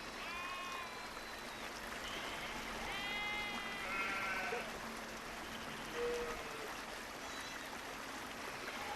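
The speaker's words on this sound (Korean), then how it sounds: "100마리가 넘는 양과 염소를 몰고" A herd of over a hundred sheep and goats bleats on a Himalayan pasture, several distant, wavering calls scattered over a steady rushing stream-like background.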